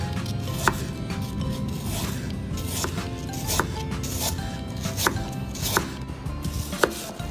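A knife chops an apple finely on a board for a barbecue sauce at a campsite, with crisp, sharp taps landing at an unhurried, fairly regular pace over a soft background hush.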